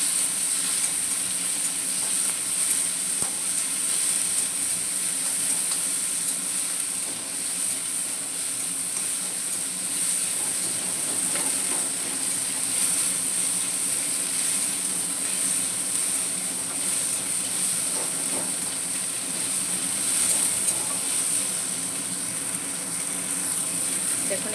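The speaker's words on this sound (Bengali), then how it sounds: "চিকেনগুলো ছোটো ছোটো করে ভেজে নিলাম।" Small chicken pieces fry in hot oil with a steady, continuous sizzle and hiss, close and even throughout, with faint kitchen clatter underneath.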